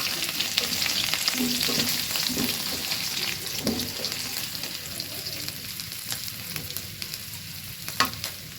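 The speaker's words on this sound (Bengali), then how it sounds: "আলুগুলো খুব সুন্দর করে ভাজা হয়ে গেছে" Potatoes sizzle and fry steadily in hot oil in a pan while being readied for a rohu fish curry, with occasional stirring scrapes and a sharper clatter near the end.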